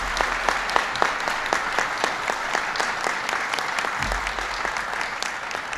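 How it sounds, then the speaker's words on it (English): Sustained audience applause for Jason Furman at a White House economic announcement, dense steady clapping from a crowd, evenly loud throughout with a few sharper individual claps standing out. "Give Jason a big round of applause"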